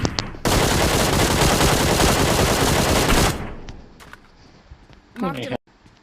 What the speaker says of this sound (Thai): ระวังตัวนอกยิงมานะพี่